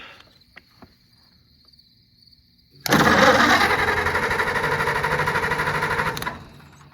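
Oliver 70 tractor engine cranking and catching, a loud rough rattling roar that starts suddenly after near silence with a few faint clicks, runs steadily for about three seconds, then cuts back to quiet.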